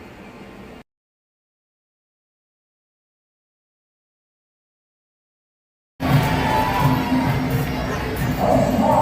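A dense crowd on the Patong Beach walking street in Thailand, loud close babble of many voices and shouts that cuts in abruptly after a stretch of silence and a brief faint opening.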